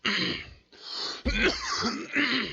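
A person coughs and clears their throat in a few harsh, close bursts, each a second or less, with short pauses between.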